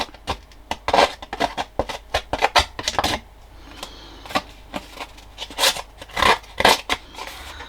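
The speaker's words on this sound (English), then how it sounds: "Big scissors are awkward to use" Close, crisp snips of large scissors cutting in quick bursts, with a short pause midway before more rapid cuts resume.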